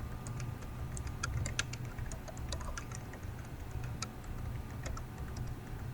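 Typing internal notes on a computer keyboard, a steady scatter of light key clicks running for about six seconds over a low background hum, close by and with no voices.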